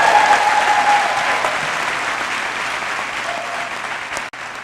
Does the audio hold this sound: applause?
yes